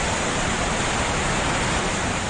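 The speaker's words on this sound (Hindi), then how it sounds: "इस बीच पुल के ऊपर से पानी बह रहा था।" Floodwater runs over a bridge in a heavy continuous roar, a dense unbroken wash of rushing water throughout.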